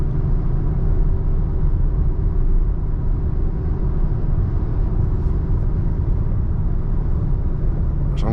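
A car on a test drive at rush hour, checking for a rear flex-disc vibration, gives a steady loud low road rumble and engine drone throughout, with no talk.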